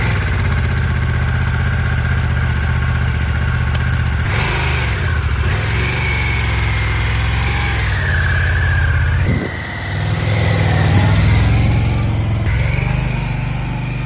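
A Harley-Davidson Pan America adventure motorcycle runs steadily up close on a mountain canyon road, its loud engine note shifting as it eases off and picks up again, with no talking.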